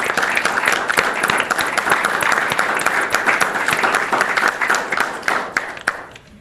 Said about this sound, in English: I am going to make you stand up so we can clap for you.